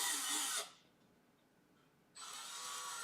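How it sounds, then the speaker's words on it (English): A power drill with a 1/4 inch bit drills a hole, a loud steady whir that stops briefly and then starts up again, with no voices. "And I simply slowly drilled it out."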